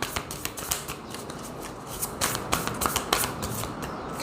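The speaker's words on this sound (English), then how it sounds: "You heard me shuffling there." A deck of tarot cards is shuffled close by: quick, crisp riffling bursts and soft slaps repeat in an uneven rhythm, quiet and alone without speech.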